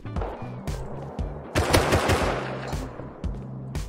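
Automatic gunfire in the video game Rust, with repeated close bursts of rapid shots broken by short pauses and heavier overlapping fire in the middle.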